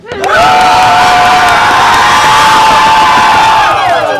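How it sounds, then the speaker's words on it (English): A live studio audience lets out a loud, sustained groundling cheer of shouts and whoops at a Richard III theatre performance, rising abruptly, holding steady for about four seconds, then fading. "give me your best groundling cheer"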